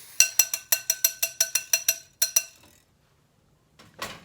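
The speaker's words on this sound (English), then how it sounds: "And then I use my my whisk to mix all of them together." Metal whisk rattling quickly against a bowl while mixing homemade hand sanitizer gel, a close run of about a dozen bright rhythmic clinks, a pause, then a brief scrape.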